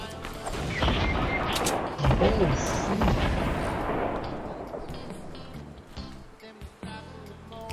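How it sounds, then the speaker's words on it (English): A burst of booming gunfire in a video game erupts, several heavy shots fading out, with a voice exclaiming briefly. "Gunshots! Guys, gunshots. I heard them."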